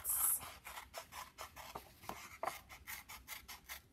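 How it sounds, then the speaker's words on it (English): Scissors make a quick series of small snipping and rasping cuts through paper, close and quiet, in an uneven rhythm. "I'm not even closing the scissors all the way as I go around."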